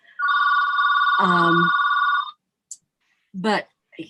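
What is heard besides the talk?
mobile phone ringing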